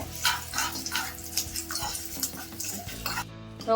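Asafoetida dropped into a hot tempering with the stove just switched off, sizzling steadily while a spoon stirs and scrapes the pan for a few seconds, close by with no talking.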